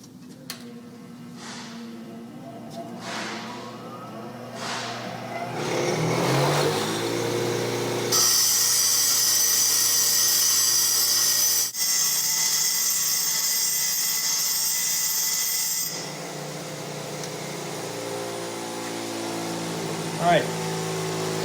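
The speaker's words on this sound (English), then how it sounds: "it just takes a few seconds on that grinder to go back in and touch these edges up and make them sharp again" A bench grinder sharpens the metal teeth of a rake, a motor hum that rises into a harsh, bright grinding whine through the middle, then eases back, with a voice talking over parts of it.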